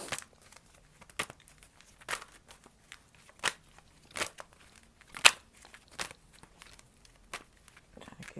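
Repeated crisp riffling bursts of stiff tarot cards being shuffled, roughly one per second, close and distinct against near silence.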